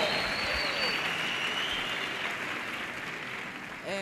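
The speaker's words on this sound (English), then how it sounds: "Give yourselves a round of applause." Steady clapping from a crowd fills the room, continuous and moderately loud, fading slightly near the end.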